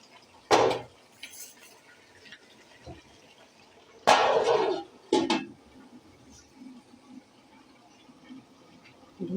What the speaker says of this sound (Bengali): এখন আমি ঢেকে দিব, ভালো করে কষিয়ে নিই।